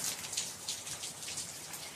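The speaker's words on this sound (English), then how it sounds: "Lester, here in Orlando, the rain has been coming down like this for the past several hours" Heavy rain from Hurricane Milton hammers down in Orlando, a steady, dense, close hiss of drops striking surfaces with no break and no voices.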